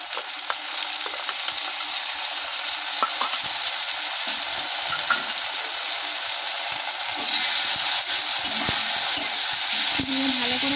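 Ginger-garlic paste hits browned onions in a hot pan for a chicken curry and fries loudly. A dense, continuous sizzle fills the whole stretch, broken by occasional scrapes of stirring, with no voices.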